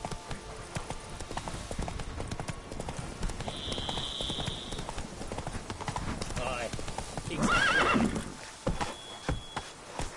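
Horse neighing and galloping hooves in The Witcher 3: Blood and Wine, with steady hoofbeats, a loud whinny near the end and someone talking over the game sounds.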